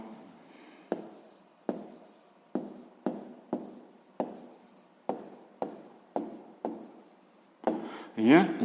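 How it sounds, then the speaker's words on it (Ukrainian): A pen writes on paper in a row of about a dozen short, steady strokes, close and fairly quiet, while solving a sixth-grade math word problem, followed by a louder brief scrape at the end. "Ну і записуємо, що це в нас буде довжина."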